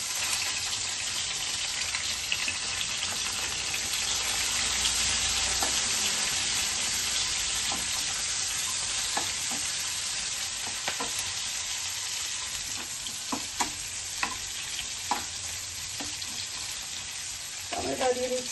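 Cumin seeds and chopped onion frying in hot oil in a pan, a steady, dense sizzle throughout with a few faint clicks and stirs near the end, close and moderately quiet.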